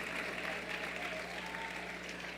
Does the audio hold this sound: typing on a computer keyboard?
no